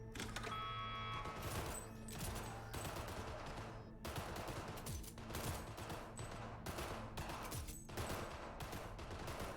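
Rapid gunfire at a shooting range in the NoPixel GTA role-play game, continuous bursts of overlapping shots rattling for nearly ten seconds at a low, even level, with brief gaps between volleys.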